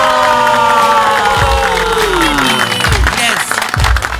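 Excited crowd of children shouting and cheering together at the end of the school year, loud and close, with adult speech mixed in.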